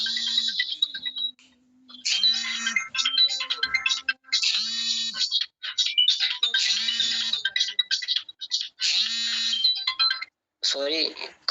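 A mobile phone ringtone repeats in bursts through a meeting, a bright tonal melody over a steady low beeping pulse, sounding close and fairly loud with brief gaps between rings.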